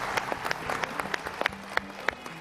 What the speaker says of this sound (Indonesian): Tepuk tangan buat CJR luar biasa.